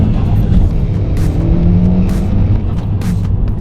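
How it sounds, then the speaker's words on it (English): A car engine revs up before a clutch-drop launch, its steady rumble holding loud and close throughout, with no talking. "You want to rev the car up to about 2 or 3k revs, bring the clutch up just before the biting point, bring it in, and then drop the clutch and go."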